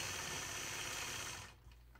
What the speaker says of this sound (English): So I'm stitching 2 of those bumps down to the center of the block.